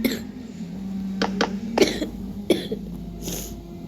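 A person coughs several times in short, sharp bursts, some clustered close together and others spaced apart, sounding close and fairly loud against a quiet background.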